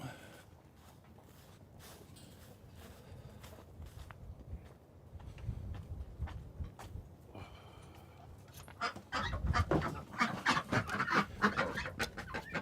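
Farm fowl cluck and chatter as ducks are let out on a morning, with footsteps and shuffling, the birds growing louder and more active in the second half.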